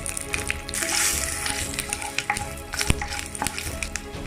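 Spices, asafoetida and dried red chillies sizzle in hot oil for tempering a Tamil mor kulambu, a close, crackling fry with sharp pops and spits over a steady hiss.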